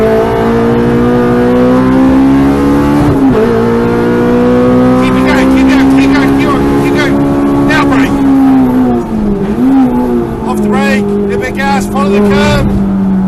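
A K-swapped Renault Clio race car pulls hard on a circuit, its engine note loud and close as it climbs through the revs with brief dips at gear changes, while a voice talks over it throughout.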